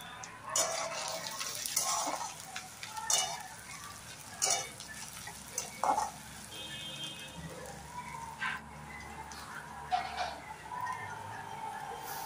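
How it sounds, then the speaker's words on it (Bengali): Onion and garlic paste fries in hot oil for a Chettinad chicken curry, a soft steady sizzle broken by occasional spoon clinks and stirring scrapes. "এটা আমি 3 থেকে 4 মিনিটের মতো ভেজে নেব।"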